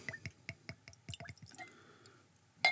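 Woodford Reserve Double Oaked bourbon whiskey poured into a glass, giving a run of close, quick drips and glugs, then a brief trickle and a sharp clink at the end.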